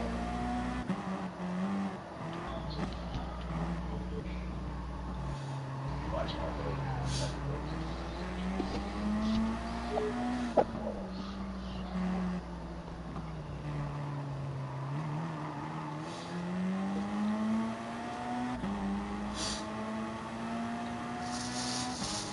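Race car engines drone and rise through gear changes in Gran Turismo Sport, a steady moderate roar with pitch sweeping up and down as the cars accelerate, heard under ongoing chatter between friends.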